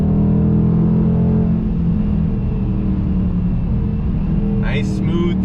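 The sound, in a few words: Dodge Challenger T/A engine revving through the rev range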